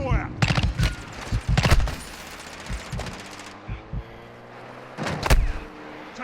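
Call of Duty gunfire: bursts of automatic fire and heavy single shots crack close and loud, with quieter stretches between volleys and a final cluster of shots at the end.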